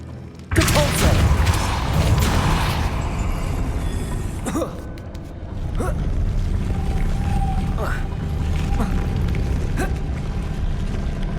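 In the Hogwarts Legacy video game, a Depulso spell bursts out with a sudden loud whoosh and boom. A sustained rumbling wash follows, with scattered thuds and a faint tone later in the game scene.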